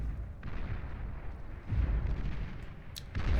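Gauntlet and Rattlesnake units firing together in the Beyond All Reason strategy game, a series of deep booming artillery blasts and rumbling impacts, with a brief sharp pop near the end.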